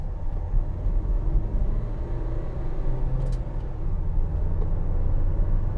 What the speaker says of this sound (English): Bit of lazy gear changing then.